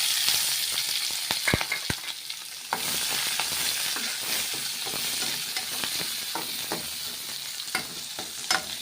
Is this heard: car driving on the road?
no